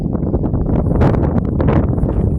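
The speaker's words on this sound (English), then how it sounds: "Oh, it's windy." Gusty wind buffets the microphone with low rumbling bursts and some rustling, loud and close throughout, beside a winter triticale field plot.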